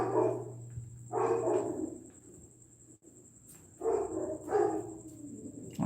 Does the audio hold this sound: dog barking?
yes